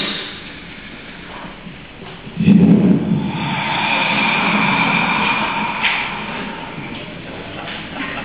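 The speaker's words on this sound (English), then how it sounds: "A breathing." A long, breathy exhalation swells and slowly fades, close and soft, with a faint rustle at its start.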